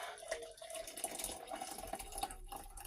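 Water pours steadily into coffee with a soft, continuous trickling and splashing at close range, quiet and unbroken for the whole stretch.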